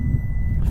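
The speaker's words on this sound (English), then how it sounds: "Power liftgate, of course." A 2021 Lexus RX 450h power liftgate running with its warning beeps, a steady high tone over a low motor hum, close by.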